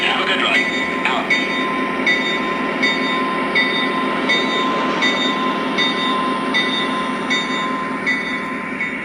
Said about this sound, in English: Dispatcher, train is moving.